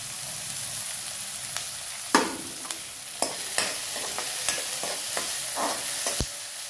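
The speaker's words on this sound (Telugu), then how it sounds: "కొంచెం ఇంత వేగినాక ఎర్రపప్పు వేయండి" Red lentils fry in hot oil in a pan for a masoor dal curry, a steady soft sizzle broken by several sharp scrapes and taps of a spoon stirring, close and with no talking.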